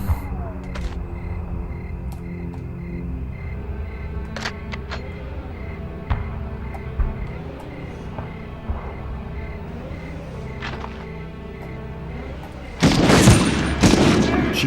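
Gunfire in a 1999 PlayStation 1 shooter video game, with scattered sharp shots spread through the clip and a louder burst of firing near the end over steady game background noise.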